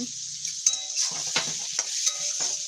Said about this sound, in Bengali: এটা কিন্তু লাল বেশ কড়া করে লাল করে ভেজে নিব